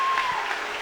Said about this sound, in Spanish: Que alguien aplauda bien fuerte a Dios